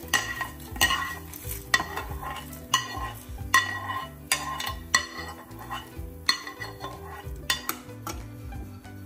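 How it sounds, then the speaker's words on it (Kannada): Grated coconut fried in a pan for bisibelebath, with a spoon stirring and scraping against the metal in repeated close strokes and light clinks over a soft sizzle, and no voices. "ಕೊಬ್ಬರಿ ಸ್ವಲ್ಪ ಫ್ರೈ ಮಾಡ್ತಾ ಇದ್ದೀನಪ್ಪ"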